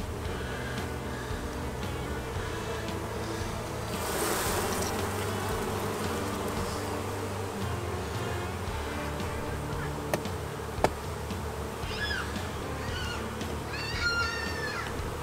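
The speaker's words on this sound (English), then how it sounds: "You start to get so many bees in the air" Honey bees fill the air with a steady, dense buzzing throughout a honey harvest done without a bee suit, with a few faint chirps near the end.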